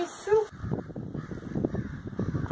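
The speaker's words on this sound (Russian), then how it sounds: "Природа нас радостно приветствует в виде божественного пения ворон или галок." Crows or jackdaws give a short caw outdoors near a porch at the start, and then a person talks over quiet background.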